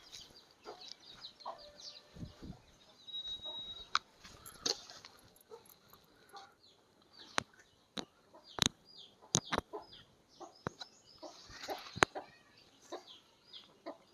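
Scattered clucks and peeping chirps from desi chickens and chicks nearby, interspersed with sharp pecking taps at feed in an otherwise quiet setting.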